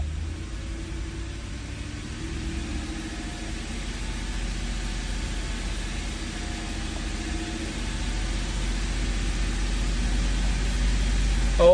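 An Audi R8 engine idles with a low, steady rumble that swells gradually toward the end as the idle is raised, with no one speaking over it.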